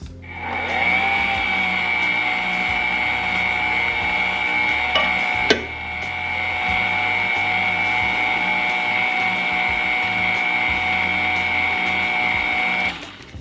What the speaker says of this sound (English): And then my last bit of flour. Mix on a low speed.